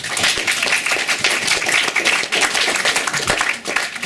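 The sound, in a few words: audience applause at poetry evening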